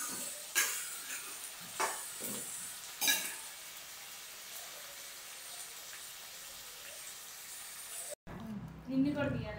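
Onions fry and sizzle in a pan for a green chili chutney, with a steady soft crackle broken by a few sharp stirring scrapes, then a brief break and a louder clatter near the end.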